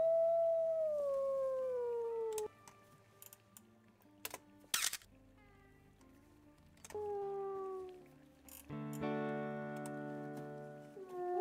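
A wolf in the WolfQuest: Anniversary Edition game howls in a long, falling tone, then short clicks and interface blips follow. A second howl comes later, followed by a rich, sustained musical chime near the end.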